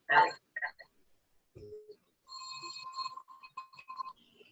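A mobile phone ringtone chimes in a quiet yoga class, playing a short series of bright electronic tones after a few soft isolated sounds; clear against near silence.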